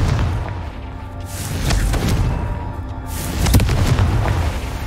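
A Confringo spell explosion in the PC video game Hogwarts Legacy, heard as loud booming blasts with rumbling bursts that come in roughly two or three waves, with no talking over them.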